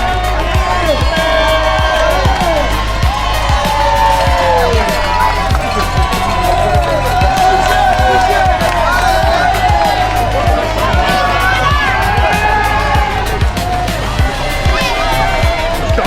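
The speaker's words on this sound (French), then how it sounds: "C'est la foule." A dense crowd of spectators lines the course as marathon runners enter Paris, keeping up continuous loud cheering and clapping with rhythmic footsteps pounding beneath it, up close and unbroken throughout.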